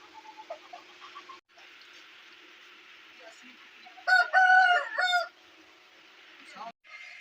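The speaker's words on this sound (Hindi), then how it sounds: "इधर मुर्गे, असील मुर्गे।" Aseel roosters in a village in Mianwali let out one loud, close crow lasting about a second, with softer clucks and faint background noise before and after.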